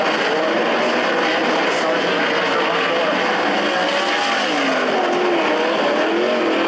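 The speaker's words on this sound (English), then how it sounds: "there's a shot of your leader, Doug Root's sprint car" Sprint cars race around a speedway oval, their engines making a loud, sustained roar that rises and falls as they pass through the turns, with a commentator talking over it.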